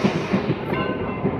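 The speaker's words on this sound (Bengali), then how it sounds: "আমাদের ট্রেন এসে পৌঁছালো বহরমপুর কোর্ট স্টেশনে" A passenger train pulls in at Berhampore Court station, a steady loud rumble of rolling wagons with faint rhythmic wheel clatter heard from on board.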